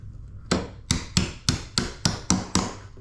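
Seven sharp metallic hammer strikes on a punch driving out a stuck door hinge pin, at a steady pace, each ringing briefly before the next blow, close by with no talking.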